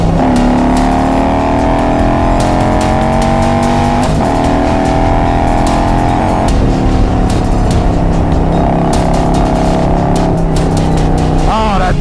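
A Harley-Davidson motorcycle engine held at a steady, loud, close rumble with rising and falling revs while riding, and faint wind noise throughout.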